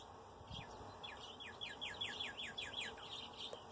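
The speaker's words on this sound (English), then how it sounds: "The sun was coming up and it was so beautiful, and I could hear the birds singing." Small birds chirp outdoors at sunrise in quick repeated high trills, faint and somewhat distant over a quiet background hum.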